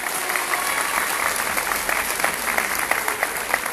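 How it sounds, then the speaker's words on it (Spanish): Steady applause from a conference audience, a dense, even wash of many hands clapping at close range that holds without letup from start to finish. "Fuerte el aplauso para ella."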